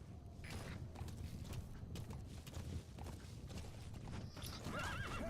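Hoofbeats of D-Horse in the video game Metal Gear Solid 3, a steady clip-clop under creaking tack, ending with a whinnying neigh, all fairly faint and distant.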